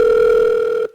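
A steady, loud telephone dial tone hums on a recorded call to an AI call center for just under a second, then cuts off abruptly.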